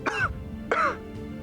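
A person coughs twice, two short harsh bursts close up, followed by a faint third exhale in a quiet room.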